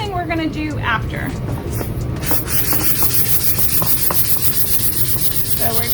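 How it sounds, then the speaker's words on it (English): Sandpaper rubs over a painted surface in short, close scratchy strokes, with a person talking over the sanding. "So we're just going to give it just a quick little sand."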